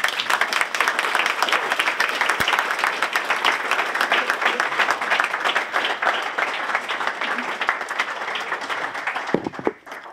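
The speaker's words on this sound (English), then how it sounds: "I think it's worth an applaud." A seated audience at a group presentation event applauds steadily, with dense, sustained clapping that holds for about ten seconds before tapering off near the end.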